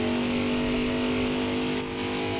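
A race car engine in a racing video game, set at Homestead during an XRX Cup series, holds a steady high drone on throttle. It is loud and continuous with a slight dip near the end, and no one speaks.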